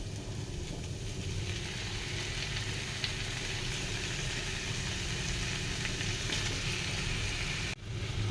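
Chicken frying in a pan with tomatoes for chicken curry, a steady, continuous sizzle with a low bubbling undertone, fairly faint, ending in a brief clatter.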